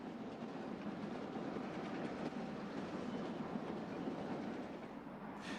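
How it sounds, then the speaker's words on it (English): A Conrail train rolls steadily along the tracks on Chicago lines, a continuous rumbling wash of wheel noise with faint clickety-clack throughout. "That includes this train snaking from the 3rd rail to Main 2"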